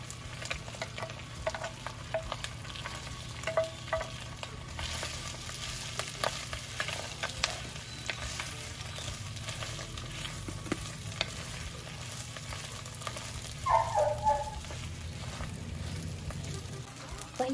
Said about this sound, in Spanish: Ya tengo caliente la manteca, le vamos a agregar el chicharrón prensado